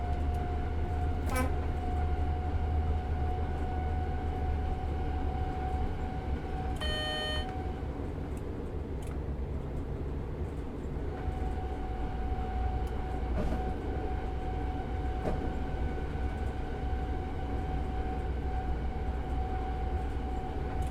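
A train rumbles steadily along in the Train Sim World 6 video game, a low continuous rolling drone with a short horn toot near the start and a brief chiming signal partway through, heard alone without talk.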